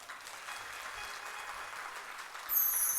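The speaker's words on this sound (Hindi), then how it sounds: "ताली कमजोर बजी थी।" A seated audience at a devotional discourse claps softly and steadily, a faint, even patter that swells slightly near the end.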